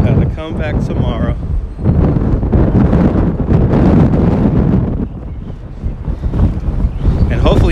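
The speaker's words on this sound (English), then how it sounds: "And if you do hear the wind, yes, it's windy out here." Loud, rough wind buffeting the microphone throughout on a downtown street in the early afternoon, with a person talking underneath the constant roar.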